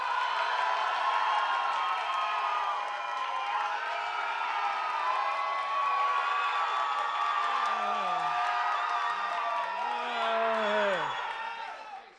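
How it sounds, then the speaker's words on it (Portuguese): A comedy festival crowd applauding and cheering for a pair of brothers, a continuous roar of clapping with whoops and shouts over it, fading out at the end. "Uma salva de palmas para os irmãos!"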